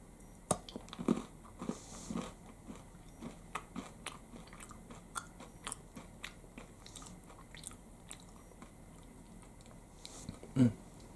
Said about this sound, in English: So this is crispy chocolate.